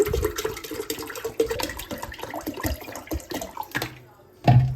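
A litre of water is poured into a cold lemon drink in a steady gushing stream that runs for several seconds, then cuts off abruptly before a final splash.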